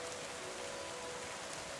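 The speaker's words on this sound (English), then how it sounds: "once it stops raining" Rain falling in the tropical-themed video game Terra Nil, a faint, even steady hiss of rainfall with a low hum beneath, no talk.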